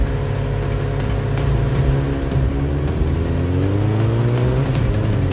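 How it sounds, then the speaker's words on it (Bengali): KTM motorcycles race at speed, a continuous loud engine roar with revving and rising pitch that holds steady throughout, close and without pause. "ডাইনি হুশ করে লালুর সামনে দিয়ে বাইক নিয়ে বেরিয়ে যায়, লালুও তাকে অনুসরণ করে।"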